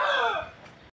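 A rooster, one of several kept in a coop, gives a single loud crow up close that trails off at the end with no talk over it.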